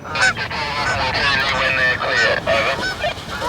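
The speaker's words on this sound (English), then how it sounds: "Hey, there's a family of geese." A family of geese honks continuously and loudly nearby, overlapping calls layered over a steady low rumble of background noise.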